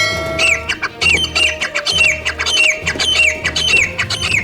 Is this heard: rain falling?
no